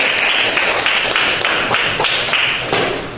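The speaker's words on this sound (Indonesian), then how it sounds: "terima kasih tepuk tangan dulu" A classroom group applauds in rhythmic clapping, steady and fairly loud, with a regular pulse of claps about every third of a second throughout.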